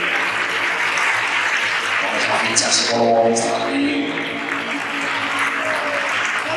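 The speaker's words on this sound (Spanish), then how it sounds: "Fortísimo aplauso para él." A crowd at a sports awards gala applauds an honoree, a sustained wash of clapping with a voice and some music-like tones heard over it midway.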